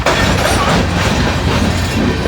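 Long coal train with 314 axles rolling past near a town, a loud, continuous rumble with rhythmic wheel clatter filling the whole stretch.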